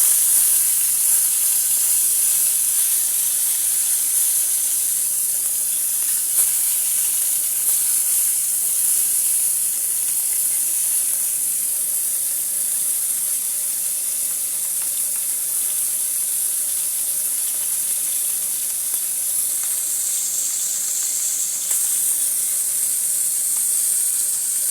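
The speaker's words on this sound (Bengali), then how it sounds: "মাছটিকে আমি সুন্দর করে এপিট ওপিট করে ভেজে নেব।" Tilapia fish fries in a pan, turned on both sides, giving a steady, even hiss that holds close and unbroken for the whole stretch with no talking.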